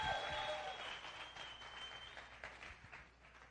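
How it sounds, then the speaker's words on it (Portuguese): A church audience claps in a fairly quiet, thinning patter, with some scattered individual claps standing out toward the end. "Aplaude Jesus aí só para a gente quebrar o gelo."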